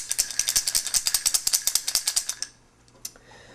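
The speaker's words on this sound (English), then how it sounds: "I spent another 4 hours making this beautiful little maple baby rattle" A handmade maple wood baby rattle shaken in a quick, even series of about twenty crisp wooden clicks, close and bright, then slowing to a few scattered taps.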